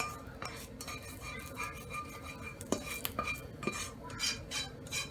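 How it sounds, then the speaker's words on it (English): Cooked fried rice is transferred from a pan into a bowl, with scraping and stirring of a utensil against cookware and occasional clinks, close and moderately quiet. "I'm going to take that out the pan and put it in your bowl till I'm ready to use it."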